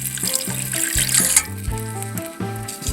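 Water pours into a pan for a balsamic vinegar and mustard seed dressing, a splashing, sloshing stream with uneven spurts, close and fairly quiet, with no talk.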